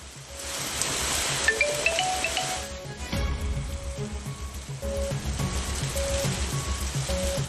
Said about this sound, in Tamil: பலத்த காற்றுடன் மழை பெய்தது